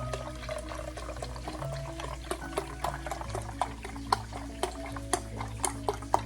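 Beef broth pours steadily into a bowl, with small splashes and clinks ticking over the low, continuous flow.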